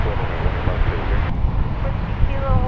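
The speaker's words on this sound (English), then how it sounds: "we've got a flight from El Paso coming in, American flight 1681 it is" An American Airlines passenger plane from El Paso arrives at DFW Airport with a steady, loud, broad jet roar that continues unbroken throughout.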